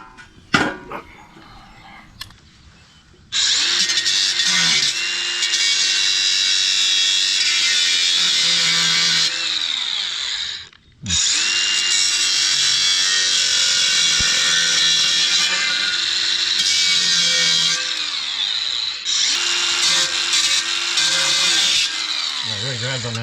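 A power cutting tool slices through welded screws on an aluminum TV mount, a loud sustained high-pitched grinding whine in two long passes separated by a brief pause, preceded by a few seconds of quieter handling.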